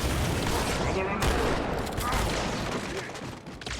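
Dense, loud gunfire rattles continuously in a Halo 2 Anniversary battle against Brutes, a steady barrage of close blasts that thins slightly toward the end.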